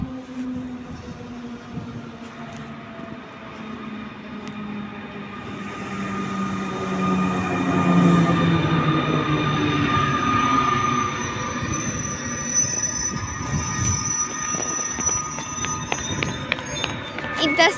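A Griffin passenger train pulls into Sopot station, its rolling wheels and squealing brakes building to a loud, sustained rumble with metallic screeches as it arrives nearby, under steady platform ambience.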